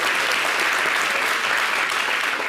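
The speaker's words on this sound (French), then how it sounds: "Il faut applaudir." A studio audience on a television show applauds in a dense, even wash of clapping, loud and continuous with no voices on top.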